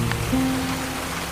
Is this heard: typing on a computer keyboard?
no